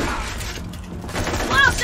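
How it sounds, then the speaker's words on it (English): Fireworks bursting in the video game Borderlands 2, a dense crackling fusillade of pops and booms that swells toward the end, with light whistling streaks mixed in. "That's fireworks."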